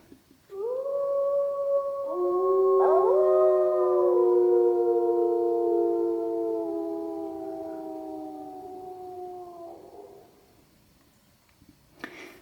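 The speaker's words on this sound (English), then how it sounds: "here you can kind of see the first wolf starting to howl" A wolf pack in eastern Germany howls together in long, rising and falling tones, one voice starting first and others joining, sustained for about ten seconds before fading.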